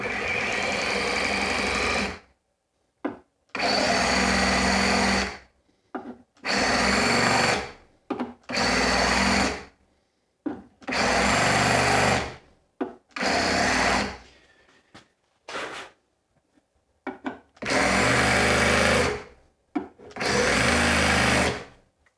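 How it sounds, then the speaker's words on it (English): A Sawzall reciprocating saw drives a coarse fret leveling file across guitar frets, roaring loudly in long bursts separated by short pauses, with no talk over it. "People see you putting fret files into a Sawzall, a demolition product"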